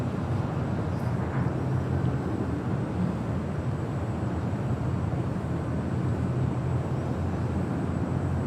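An Air Canada Boeing 737 MAX 8 arrives from Vancouver on runway 24 right at LAX, heard as a steady, moderately distant jet rumble that holds level throughout with no talking.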